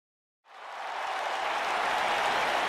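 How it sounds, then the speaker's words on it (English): Crowd applause from a WWE 2K19 wrestling arena swells in abruptly after a moment of silence, then holds as a dense, steady roar of clapping with no voices. "Clap for your longest reigning tag champs"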